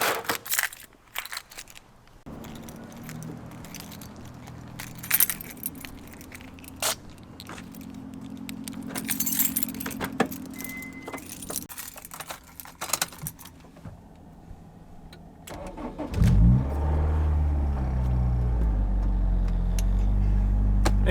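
A Honda S2000 fitted with a Buddy Club exhaust being pulled in after a track day; scattered clicks and handling noises give way to a deep, loud engine rumble near the end.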